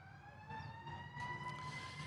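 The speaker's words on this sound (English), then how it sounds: "we've got sirens going" Sirens wail steadily in the distance over a park in Riverside, California, long rising tones sitting faintly above low background rumble and occasional birdsong, with no talk.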